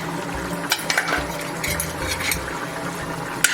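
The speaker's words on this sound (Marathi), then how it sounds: "आणि व्यवस्थित आपण मिक्स करून घेऊया" Spoon stirring garam masala into a jackfruit curry in a pot, a run of soft scraping strokes and occasional light metallic clinks against the pan, close and steady with no talk.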